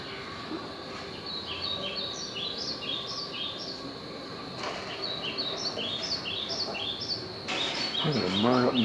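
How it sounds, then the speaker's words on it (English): Birds call with repeated chirping phrases from a tree, layered over steady outdoor background noise, with a louder rustling burst near the end. "There's a bird up in the tree and a bear in the bushes somewhere."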